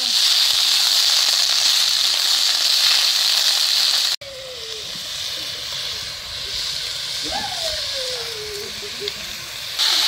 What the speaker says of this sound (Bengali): তেলের মধ্যে ভেজে নিচ্ছি।